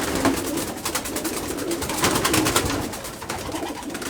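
Pigeons in a trap or training box, a dense chorus of cooing and fluttering wing flaps close by, with no talking.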